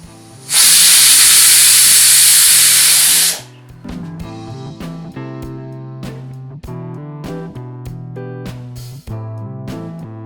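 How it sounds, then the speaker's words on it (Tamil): A pressure cooker cooking black chickpeas lets out one loud, sustained steam whistle for about three seconds, then stops as music carries on. "இப்ப ஒரு 3 விசில் வர வைக்கலாம்."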